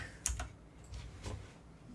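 Computer keyboard typing during a Japanese kanji lesson: a few quiet, scattered key clicks, soft and close, with no talking.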